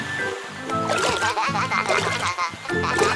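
Cartoon fountain water splashing in a children's animation about trucks and street vehicles, bursts of bright splashing mixed with squeaky animated voices and chatter throughout.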